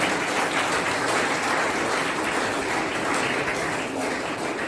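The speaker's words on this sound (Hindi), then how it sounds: "उसके लिए खास करके तालियां।" Applause at a DAV Gumla school event for the girls who kept singing after the technology failed; a crowd claps in a dense, even wash that holds steady and loud from start to finish.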